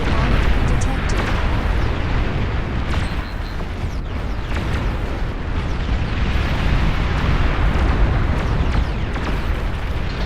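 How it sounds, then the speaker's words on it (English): A nuclear bomb detonates in the strategy game Beyond All Reason, giving a loud, sustained rumbling roar of dense low-end noise that holds steady for about ten seconds with no pauses. "Nuclear bomb detected."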